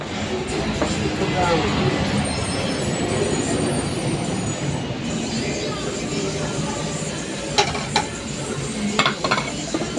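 Sugar is stirred into milk tea, a soft continuous swirling with a few light clinks near the end, set against busy shop background noise.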